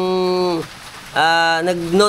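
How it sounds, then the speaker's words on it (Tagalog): Heavy rain from a super typhoon lashing Malolos, a steady wash of noise throughout, partly covered by loud, wavering tonal sounds that rise and fall in two long bursts. "At nag-umpisa ng lumakas yung ulan eh."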